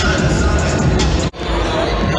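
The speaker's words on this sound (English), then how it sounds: "Crowd went crazy." A loud, steady roar of an arena crowd at a pro basketball game, Scarborough Shooting Stars versus Hamilton Honey Badgers, fills the space continuously, briefly cutting out before swelling back, with voices mixed into the din.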